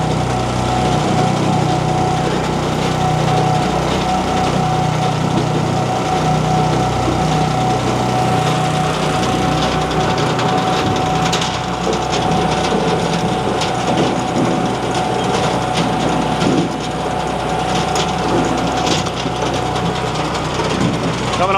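A disc cleaner machine at the Paul Bunyan Show 2025 runs with its tines engaged, giving a loud, steady mechanical roar with rattling and clattering that continues without a break.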